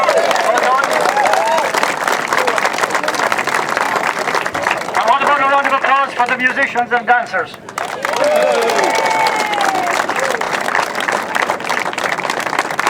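An audience at the Drumkeeran Old Fair Day claps for musicians and dancers, a dense steady patter of applause lasting several seconds while someone speaks over it on a loudspeaker.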